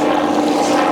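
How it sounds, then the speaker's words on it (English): A low, steady drone of an aircraft passing overhead near beach huts on the coast, loud and continuous for about a second with no voices. "helicopter"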